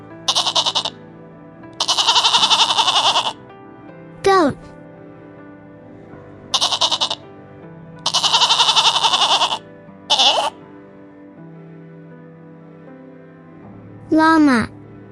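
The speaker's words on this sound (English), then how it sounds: "Goat." A goat bleats in several loud, wavering calls, each roughly a second or two long with pauses between, standing alone without any talking underneath.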